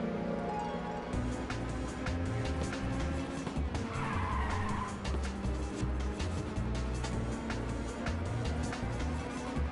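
A car drifts through a corner in the racing game Ridge Racer 2 on PSP, its tires squealing in a long steady skid over a droning engine that stays loud and close for the whole stretch, with no talk.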